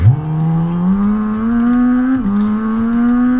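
A video game car drives through a city with a steady engine hum that rises gradually in pitch, dips briefly as if shifting, then climbs again, close and continuous with no talking.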